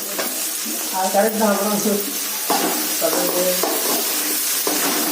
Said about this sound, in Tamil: வெங்காயம் வதங்கிச்சு, தக்காளி போடணும்.